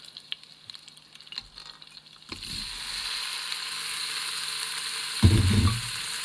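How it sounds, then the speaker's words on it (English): Cauliflower dropped into a hot pan where seeds were toasting, bursting into a steady broadband sizzle that holds loud, with a brief louder clatter of stirring or shifting pieces near the end. "I'm gonna stick the cauliflower in there."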